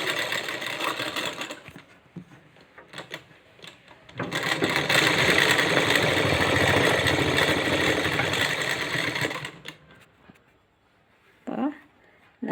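A sewing machine stitches fabric in a loud, steady run of rapid mechanical chatter from about four to nine seconds. Shorter, quieter bursts and handling noises come before and after, and a voice talks nearby.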